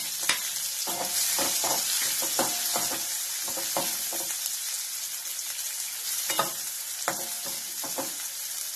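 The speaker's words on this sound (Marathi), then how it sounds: "जिरे तडाडले की त्याच्यामध्ये कांदा घालायचा" Sliced onion sizzles steadily in hot oil with crackled cumin seeds, a constant loud frying hiss broken by repeated scraping stirs of a spatula in the pan.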